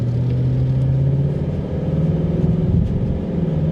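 Flood-damaged 2021 Ford Mustang GT accelerating with a deep, loud engine rumble that climbs and drops as it shifts gears, heard from close by and almost without talk.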